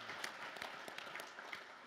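Audience applause at a summit panel on bridging the country's divide, a steady wash of many hands clapping at moderate level, fairly even through the moment with scattered sharper claps.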